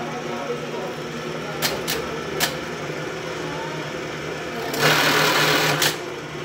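A sewing machine with a thread cutter sews buttons, humming steadily up close with a few sharp clicks and a brief louder burst near the end, while people talk.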